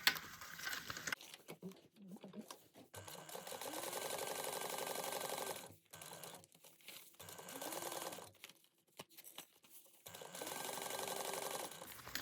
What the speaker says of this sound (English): we're going to baste this at an eighth of an inch all the way around on both sides